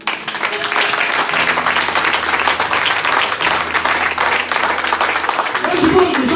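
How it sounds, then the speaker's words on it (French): A church congregation applauds the Lord in steady, loud clapping that runs throughout, with a sustained organ or keyboard chord and voices mixed underneath. "Et je vais acclamer le Seigneur."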